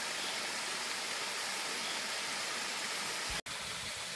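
Steady, loud broadband rush of a waterfall close by in a remote mountain valley, continuous throughout with one brief dropout near the end.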